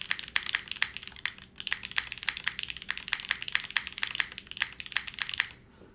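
Fast, close typing on a Kohaku mechanical keyboard with Sprit keycaps, an aluminum plate and deskies. A dense run of clacky keystrokes with a few heavier thocks, stopping just before the end.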